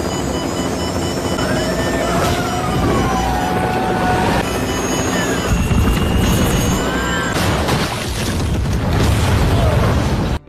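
A loud, continuous helicopter roar with heavy rumble and layered whining tones, sustained throughout with bursts of booming effects, from an Indian action film scene.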